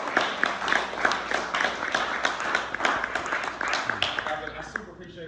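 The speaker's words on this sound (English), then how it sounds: "Another round of applause." Applause from a crowd at a meeting in Las Vegas, many distinct claps in an uneven rhythm that thins toward the end, with a voice speaking over it.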